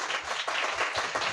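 A church congregation at Sunday worship claps hands together in a fast, steady rhythm, many hands close by, sounding like a lively beat-driven round of clapping.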